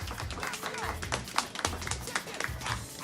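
Zoo audience at a flamingo show clapping, scattered close hand claps and taps in an uneven rhythm, with murmuring voices and outdoor bustle underneath.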